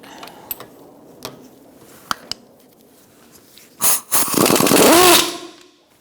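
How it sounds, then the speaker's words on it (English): A 14mm socket works the nut off a ball joint pinch bolt on a 2004–2009 Mazda 3, a few sharp metallic clicks and taps giving way to a loud burst of rapid rattling from a nearby impact-style tool. "using a 14mm socket, I'm going to take off the nut off this pinch bolt"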